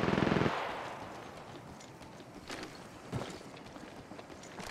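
Gunfire in the mobile battle royale game Apex Legends Mobile: a loud, rapid automatic burst up front that cuts off, followed by scattered fainter shots and footstep-like thuds.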